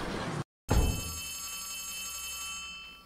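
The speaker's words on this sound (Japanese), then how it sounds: "電話来てる。" A telephone bell rings in the horror game Poppy Playtime Chapter 3, breaking off in a brief silence before one loud, sustained metallic ring that slowly fades.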